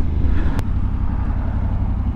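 Yamaha Tenere 700 World Rally motorcycle fitted with an Akrapovic exhaust, its engine idling or running steadily with a deep, even rumble, close and continuous, with one brief sharp click partway through.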